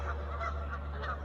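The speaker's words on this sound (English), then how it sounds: "I just had a whole bunch of geese fly right over my head." A flock of geese honks while flying overhead near an old railroad bridge in Blairstown, New Jersey, giving several faint, evenly spaced honks against steady outdoor background noise, with no voices.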